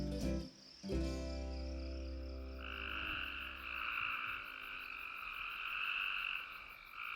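Frogs calling in a Smoky Mountains forest: a dense, steady chorus of croaks with high, insect-like trilling running throughout, moderately distant and unbroken by talk.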